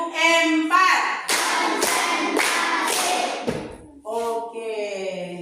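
Loud bursts of synchronized clapping from madrasah students in a classroom game, several strong rhythmic rounds in a row, with voices calling out before and after the claps.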